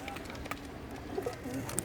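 Soft cooing of young pigeons in a balcony coop close by, low throaty murmurs repeating in short bursts with faint chirps and a voice in the background.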